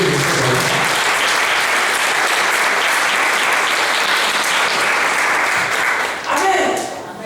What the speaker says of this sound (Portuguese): Dá uma aplauso ao Senhor.